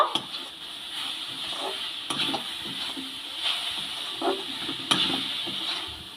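Amla (Indian gooseberry) mixture stirred in a pan while cooking without sugar: soft scraping strokes and light knocks of the spoon over a quiet, steady sizzle, close and fairly faint.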